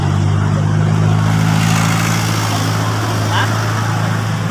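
Steady low engine hum and road rumble from cars in slow traffic near an expressway exit, continuous and fairly loud, with voices speaking over it.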